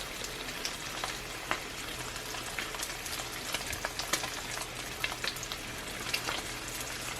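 A sourdough bacon, egg and cheese breakfast sandwich grills in a pan, giving a close, steady sizzle with scattered crackles and pops, and nobody speaks.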